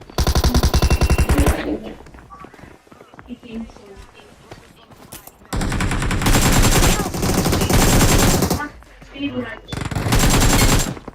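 Heavy automatic gunfire in a mobile shooter video game in winter mode, loud rapid bursts of machine-gun fire lasting several seconds each, separated by short gaps with scattered shots and game sounds.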